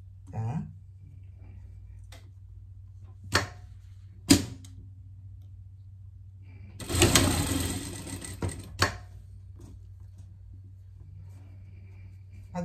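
A sewing machine stitches a pet jacket in one burst of rapid, close mechanical chatter lasting about two seconds, set between scattered handling knocks and a low background hum.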